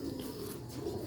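Pigeons cooing in a pigeon keeper's loft, a brief soft low coo under quiet background noise.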